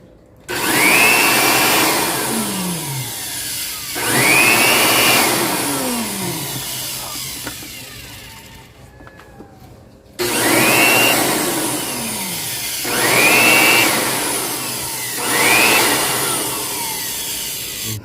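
A loud air blower roars in repeated bursts during a Toyota Innova oil change, each rising then easing off, with a short quieter pause midway before the blasts resume.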